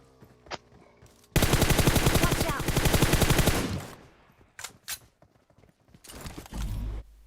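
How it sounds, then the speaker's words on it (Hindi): Gunfire in the video game PUBG Mobile, a long sustained burst of automatic fire followed by scattered single shots and a final short burst, loud and close. "अब यहाँ पे गोलियां चल रही होती है"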